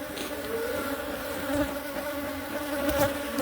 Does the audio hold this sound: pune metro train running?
no